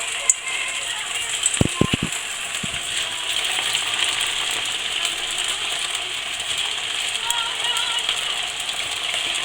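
Makrout pastries frying in a pan of very hot oil, a constant bright sizzle with a few sharp metallic clinks near the start, steady and close throughout.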